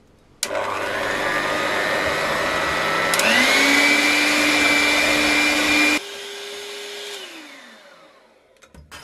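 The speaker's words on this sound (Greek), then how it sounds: "Αφού χτυπήσαμε όμορφα και ωραία το βούτυρο με το κακάο" An electric mixer beats butter with cocoa for a fasting chocolate cake, a steady loud motor whine that steps up in speed, cuts to a lower hum, then winds down to stop.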